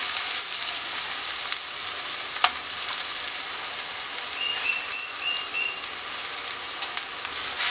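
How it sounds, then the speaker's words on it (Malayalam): Ground chili and coriander paste frying in oil for a Kerala sardine and mango curry, a steady close sizzle with occasional sharp pops and faint bird chirps in the background. "മുളകിൻ്റെയും മല്ലിയുടെയൊക്കെ പച്ച ചുവന്ന് മാറുന്നത് വരെ ഇതൊന്ന് ഒരു രണ്ട് മിനിറ്റ് വരെ എണ്ണയ്ക്കകത്തൊന്ന് മൂപ്പിച്ചെടുത്താൽ മതി"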